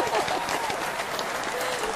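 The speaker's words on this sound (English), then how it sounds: "A little bit of applause for you." A studio audience claps for a few seconds on a radio talk show, a dense even patter of hands at moderate level, with some voices mixed in underneath.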